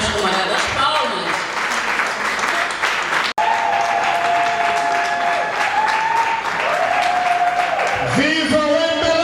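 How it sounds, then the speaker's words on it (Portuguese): Party comrades at an MPLA political gathering clap in sustained, loud applause mixed with crowd noise and occasional whoops, with a voice speaking over it near the end. "Uma salva de palmas. As camaradas, palmas."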